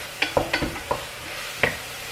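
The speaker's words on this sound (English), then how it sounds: "cut that heat up on that meat, let it go, let this keep sauteing down" Venison meat sautés over medium-high heat in a pan, a low steady sizzle broken by several sharp utensil scrapes and knocks spread through the short stretch.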